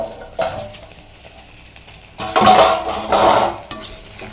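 A lid lifted off a pot of Soumi's kovakkai (ivy gourd) karamadhu sathumadhu, giving metallic clatters and scraping of cookware, with louder bursts of clanking near the end and no speech.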